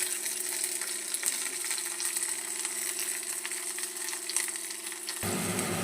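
Onion and ginger-garlic paste frying in hot oil give a steady, close sizzle with fine crackling that runs throughout and stays fairly loud and even, with no talking.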